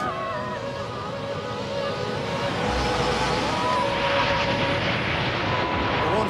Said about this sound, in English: Dan can now clear this plane for takeoff